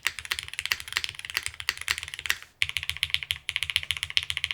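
Rapid clacky keystrokes on a Fragment TKL plateless mechanical keyboard, a close, even stream of crisp taps with one short pause midway.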